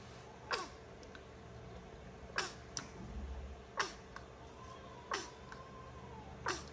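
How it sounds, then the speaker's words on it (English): Several small, sharp sneezes from a preterm newborn baby, spaced a second or so apart, close and clear against a quiet room. "The baby is sneezing."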